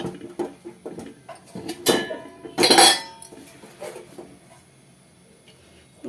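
A frying pan set down on a stove and the stove switched on: a sequence of metallic clanks and knocks, two louder scraping clatters in the middle, then softer taps fading out, no speech.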